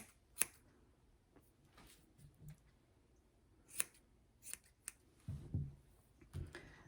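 Scissors snipping a Havanese dog's chin hair during a short-haircut grooming, a few sharp, close metallic snips spread out between quiet moments, with soft handling rustles low underneath.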